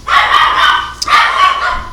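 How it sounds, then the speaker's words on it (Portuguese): Dogs barking close and loud, two bursts of sharp barks separated by a short pause. "Os cachorros aí."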